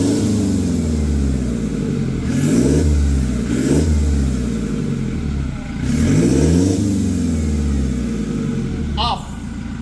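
Toyota Hilux fitted with a Greedy exhaust, revved several times in a row, each rev rising to a deep, loud roar before dropping back to a rumbling idle, with a short squeak near the end.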